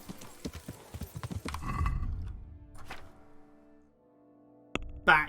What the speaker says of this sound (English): I couldn't resist getting slightly fucking batshit crazy with my horse, so I'm riding Warhorse Gender